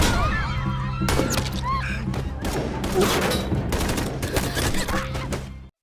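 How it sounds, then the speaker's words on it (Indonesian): Gunfire crackles through a battle scene in a Korean spy film, with rapid volleys of loud sharp shots and bursts from several directions, dense and continuous amid shouting and clatter. "Di tengah situasi itu, dari kejauhan terlihat Im datang sambil melepaskan tembakan"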